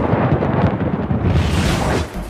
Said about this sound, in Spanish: el ruido de la tormenta es tan fuerte que Justin se acerca para subir el volumen.